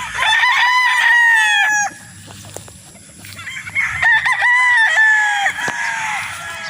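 Gamecock roosters on a farm in Roxas crow loudly and close, several long cock-a-doodle-doo calls in succession with a few clucks between them and no talk.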